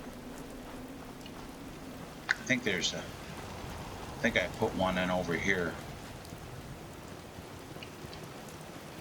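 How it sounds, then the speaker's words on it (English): Steady rain falling in Fallout 4, a constant broadband hiss that runs through the whole stretch, with someone talking over it in short bursts. "One thing I do care about is this fucking rain."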